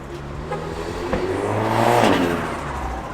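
BMW M340i xDrive pulling in, its engine and turbo rising in a smooth, building whir that swells toward the middle and eases off, fairly close with no talk over it.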